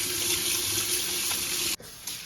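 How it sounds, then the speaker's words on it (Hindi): Water streams steadily from a kitchen tap as carrots are washed under it, a close hissing flow that briefly stops and resumes near the end, with no talk. "अब मैंने ये गाजरें जो है धो ली है सारी।"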